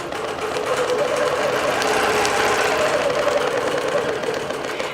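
Steady, fast mechanical whirring and needle chatter from a long arm digital quilting machine stitching a quilt with silk and cotton blend batting, continuous and close for the whole stretch.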